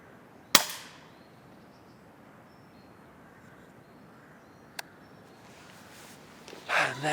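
A single sharp, close airgun crack fires at a squirrel by a garden feeder, then a long quiet stretch outdoors with one faint tick and a soft rustle at the end.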